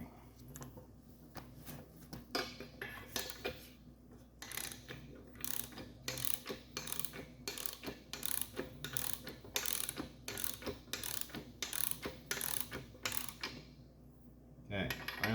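A ratchet tightens the pinion yoke on a 12 bolt rear end of a Camaro, clicking in rapid bursts of metallic pawl ticks with short pauses between strokes, close and loud, with no talking.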